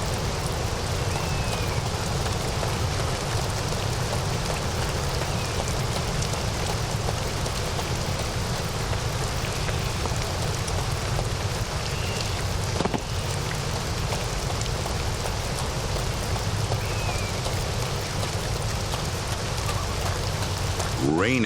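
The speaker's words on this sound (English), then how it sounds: "Rain again." Rain in the video game Two Worlds: steady, dense rainfall patters continuously on surfaces, a close, even hiss that persists throughout with no break.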